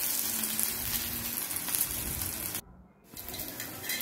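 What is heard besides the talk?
dhapate flatbread frying in oil on a pan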